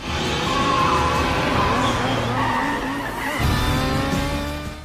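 Tyres squeal and skid in long, loud screeches as engines roar close by during a motorcycle chase weaving through traffic in Mission Impossible 2.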